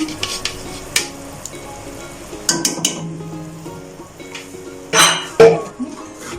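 Spices being mixed in a pot with a spoon for chicken kofta curry: a steady oily sizzle with scraping stirs and sharp metallic clinks against the pot, the loudest knocks near the end.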